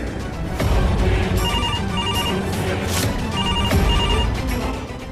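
A telephone rings repeatedly in a drama scene, its electronic ringtone pulsing in short bursts over a steady background bed with no one speaking.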